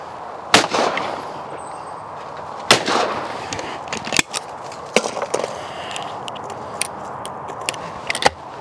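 A Blaser F16 Sporter shotgun fired at clay targets outdoors, several sharp, loud single reports spaced a few seconds apart, each followed by a short echo, with faint handling clicks between shots.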